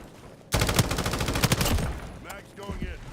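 Rapid hip-fired gunshots in a shooter video game, a sharp fast burst of automatic fire for about a second and a half that tapers into scattered sounds and a faint voice.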